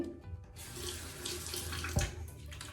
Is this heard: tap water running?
yes